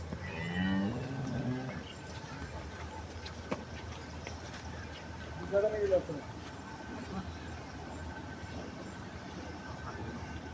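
A Holstein Friesian cow gives a low moo near the start, and another lowing call follows midway, over a steady outdoor drone.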